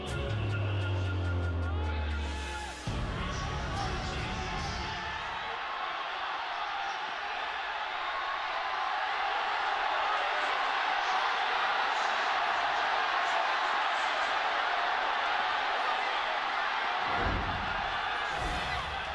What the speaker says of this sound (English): The roar from the crowd says it all as we get into this 5th game